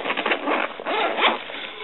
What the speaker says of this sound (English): If I can find the right zipper for that.